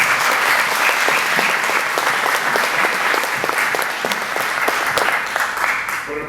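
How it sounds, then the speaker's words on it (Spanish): An audience applauds at the close of a lecture on geology and the energy transition, with dense, steady clapping from a sizeable crowd that carries on for several seconds and eases slightly at the end. "un aplauso para Antonio."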